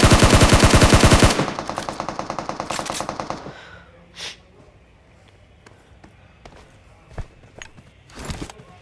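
Rapid automatic gunfire from squads fighting in PUBG Mobile bursts loudly at first, then gives way to scattered distant shots and footsteps in the game.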